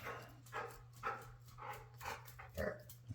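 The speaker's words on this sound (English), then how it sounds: "As you can hear, my dog just rolled in." A dog barks in a series of short, moderately loud yips and barks, spaced irregularly about half a second apart, heard indoors over a steady low hum.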